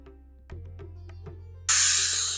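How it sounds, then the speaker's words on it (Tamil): Pressure cooker on a kitchen stove, cooking sambar, releasing steam: after a few faint clicks and a low hum, a loud, steady hiss bursts out and continues. "குக்கர் சவுண்ட் வந்துடுச்சு"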